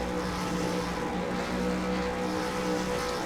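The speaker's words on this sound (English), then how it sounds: "So we'll see how Sean goes off the line as the revs begin to build" V8 race car engines in a full field at Sebring International Speedway rev hard at the race start, forming a loud, continuous droning roar that holds steady throughout.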